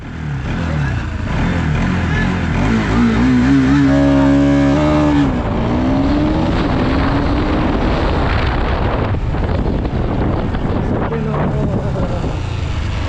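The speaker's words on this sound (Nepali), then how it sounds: "कस्तो विल स्पिन भइरहेको थियो" A four-year-old 13-tooth-sprocket KTM RC200 launches on a Kathmandu road drag run, its engine revving hard with a rising whine as the rear wheel spins, then roaring on steadily; wind buffets the microphone.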